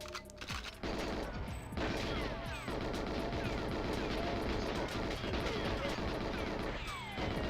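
AK-47 automatic fire in GoldenEye 007 on the Nintendo 64, a near-continuous loud stream of shots after a brief opening, with occasional short gaps and crunchy impact noises.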